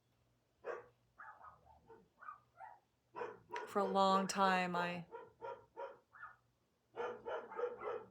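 A dog barks in a burst of loud, close yips while a person speaks quietly before and after.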